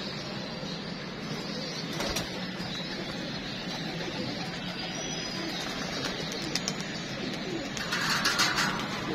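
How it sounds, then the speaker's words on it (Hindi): Soft pigeon coos over a steady outdoor hum, with a faint rustle and brief flutter toward the end. "ये हमने कबूतर पकड़ा था जी"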